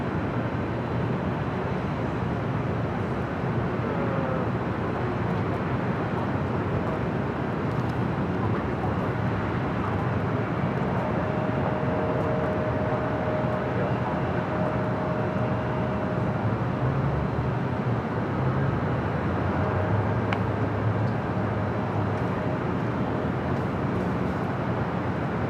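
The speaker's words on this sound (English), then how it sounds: "You have that Delta 757 heading back to Boston," A Delta Boeing 757 jet takes off at LAX, heading to Boston; a broad, steady roar of jet engines and wind rumble fills the scene continuously at a distance, with a faint whine rising partway through.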